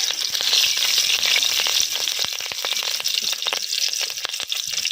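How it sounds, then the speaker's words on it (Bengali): Cumin seeds and green chillies tempering in hot oil for a fish curry with figs, a steady close sizzle and fry crackle with scattered sharp pops throughout. "প্রথমে এই তেলের মধ্যে জিরে এবং কাঁচা লঙ্কা ফোড়ন দিয়ে দেবো।"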